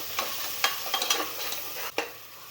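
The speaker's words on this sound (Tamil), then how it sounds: "அதுவும் நல்லா பச்சை வாசம் போகிற அளவுக்கு நல்லா வதக்கி விட்டுக்கலாம்" Onion and tomato being sautéed in a pan for ghee rice: soft sizzling with a few scraping stirs of a spoon, close and moderately quiet, no voices.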